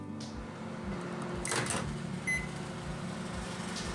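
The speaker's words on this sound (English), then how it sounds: "now get it back into the microwave for 10 seconds" A microwave oven runs with a steady low hum while heating mozzarella curd, with a short burst of clatter partway through and a brief beep, near and fairly quiet.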